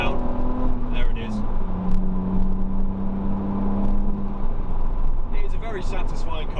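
BMW Z4 accelerating hard to 70 mph with a rising engine drone and steady road and wind roar from inside the cabin, loud and continuous, briefly joined by someone talking.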